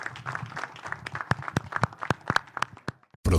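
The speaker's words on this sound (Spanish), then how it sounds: "Les damos un aplauso, si no hay más preguntas." Scattered, uneven hand claps from a small audience at the close of a Spanish-language agricultural talk on nutritional optimizers, thickening toward the end and ending in a short, louder burst.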